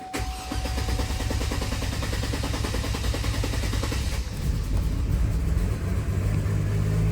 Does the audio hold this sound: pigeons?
no